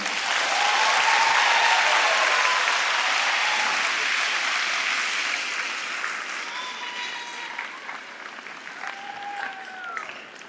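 An audience applauds steadily for a man named Boogie as he takes his seat, loud and dense at first and gradually thinning, with a few voices calling out faintly near the end.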